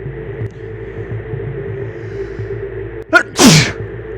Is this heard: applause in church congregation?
no